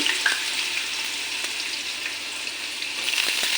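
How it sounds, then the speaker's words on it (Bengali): Potatoes frying in a pan for a savoury semolina snack give a continuous bright sizzle, close and even, with occasional faint stirring scrapes. "এই উপকরণগুলি একটা পর একটা আমি এখানে ভাজা করে নেব প্রথম আলু দিয়েছি"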